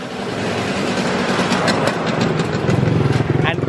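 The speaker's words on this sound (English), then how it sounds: "endless scooters." Scooter engines drone and putter along a busy Penang street, a steady loud motor hum with one bike idling and revving close by, while a voice talks over the traffic.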